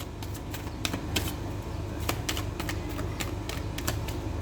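A tarot card is drawn during a reading, giving a steady run of soft, crisp card-shuffling clicks and flicks at close range with no talking.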